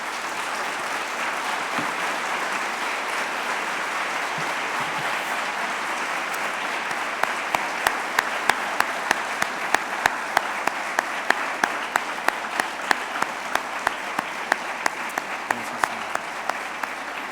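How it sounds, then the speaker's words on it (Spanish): A church congregation bursts into loud, sustained applause that continues at an even level for a long stretch, joined midway by sharp rhythmic claps or beats that keep time near the front. "Démosle un fuerte aplauso al Señor."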